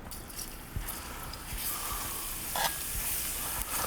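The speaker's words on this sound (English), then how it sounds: "First thing we're going to do is saute the garlic" Garlic sautéing in a pan for pancit bihon, stirred with a metal spatula, gives a steady close sizzle with light scraping and stirring clatter throughout.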